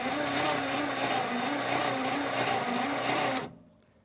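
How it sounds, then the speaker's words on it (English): The engine of a 1964 Ford Galaxie that sat for 30 years cranks without starting. It gives a steady, close whirring drone for over three seconds, then cuts off abruptly. "Might not have enough cranking speed,"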